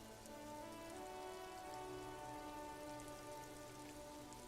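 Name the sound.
rain falling in Disco Elysium video game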